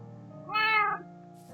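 A single cat meow in Minecraft on PS3 swells and fades within about half a second, clear and close over quiet game background.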